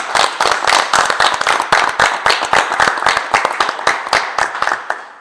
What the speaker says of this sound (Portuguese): as palmas aqui